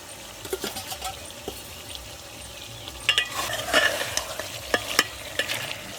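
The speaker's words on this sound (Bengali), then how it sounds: "মাংস কষাবো আর আলুগুলো একেবারে দিয়ে দেবো এখন" Meat and potatoes sautéed in a pan, a soft sizzle under repeated scraping stirs that grow busier and louder toward the end.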